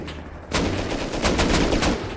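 Rapid bursts of gunfire from the video game Rust crack out from about half a second in and continue as repeated loud volleys, with no voices over them.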